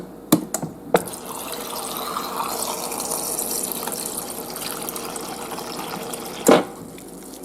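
Filtered water pours steadily from the door dispenser of an LG refrigerator, a continuous close splashing stream framed by a few sharp clicks at the start and a thump near the end.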